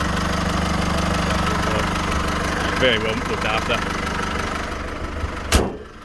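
The 2.8-litre turbo diesel engine of a 2015 Holden Colorado 7 LT idles steadily at close range with a constant clattering rumble, while someone speaks briefly over it and a sharp knock sounds near the end.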